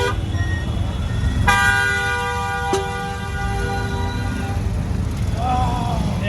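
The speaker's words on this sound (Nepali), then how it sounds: "हॉर्न बजा बजा कर पागल कर देते हैं यार।" Vehicle horns honk in busy road traffic near Kesarbagh Circle, one long close blare and a shorter toot over a constant engine rumble, with someone talking.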